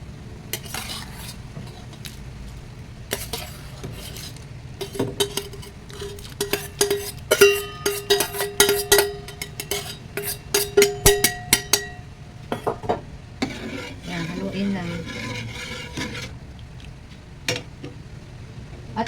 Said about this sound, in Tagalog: ibalik na natin guys ang ating pinalambot na sago dito